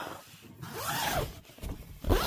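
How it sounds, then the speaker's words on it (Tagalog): A zipper on camping gear beside a sleeping bag is pulled in a few short rasping strokes, close and fairly quiet, with no talk over it. "Zipper."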